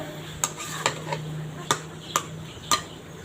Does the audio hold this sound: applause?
no